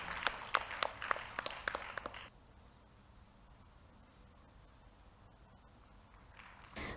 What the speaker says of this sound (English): So I request all of you to give one more big round of applause for Anushree, who made us all proud today.